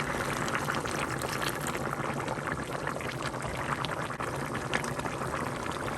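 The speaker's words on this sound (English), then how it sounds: "Add the rest of my broth." Beef broth poured into a pot of stovetop beef ribs, a continuous loud splashing, bubbling rush of liquid held steady for several seconds, close and with no talk.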